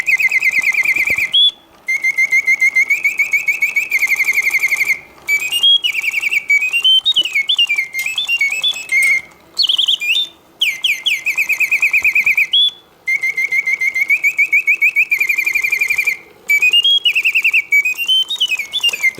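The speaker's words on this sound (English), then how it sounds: "The bird sings perfectly, hitting all of the proper oscillating notes." A Reuge mechanical singing bird cage automaton whistles loud, sweet warbling trills and rising chirps in repeated phrases, separated by brief silent pauses, heard alone and up close.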